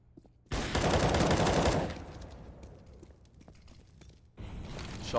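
A loud burst of rapid gunshots rings out during a competitive shooter match, followed by a quieter stretch of scattered shots and mechanical clicks, then another heavy volley of fire near the end.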